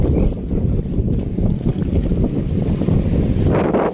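Strong wind roars against the microphone on a fishing boat out at sea, a loud, continuous buffeting rumble mixed with the churn of water and the boat's motion, with no voices.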